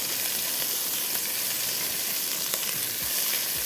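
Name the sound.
minced meat (keema) frying in a pan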